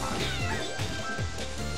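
A voice mimics a cat, giving a few drawn-out, wavering meows in quick succession, close and fairly loud.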